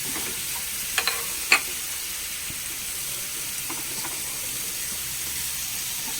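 A spoon stirring fried fish through masala in a pan, soft scrapes and a few sharp clinks early on over a quiet, continuous low sizzle.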